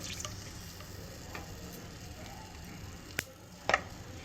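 Dried red chillies fry in oil in a kadai for Schezwan chicken fried rice, a faint steady sizzle punctuated by a couple of sharp clicks and scrapes near the end.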